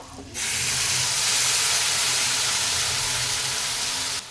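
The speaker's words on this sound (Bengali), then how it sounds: "এখানে আমি সর্ষে আর পোস্ত কাঁচা লঙ্কা মিক্সিতে বেটে রেখেছিলাম, সেটা দিয়ে দেব।" A mustard, poppy seed and green chilli paste hits a hot pan with a sudden loud, steady sizzling hiss lasting about four seconds before cutting off abruptly.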